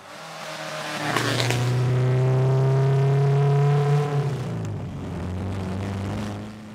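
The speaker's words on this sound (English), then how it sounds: "MGB, it's meant to be a race car. It's really, really loud." Loud MGB race car engine revving up from idle, holding a high, harsh drone for a few seconds, then dropping back to a lower rumble close by, with no talk over it.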